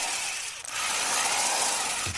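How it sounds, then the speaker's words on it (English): A power drill whirs in one loud, continuous, even burst of about two seconds with a brief dip partway, standing alone without talk. "We're looking for your best drill sound on Tool Time today."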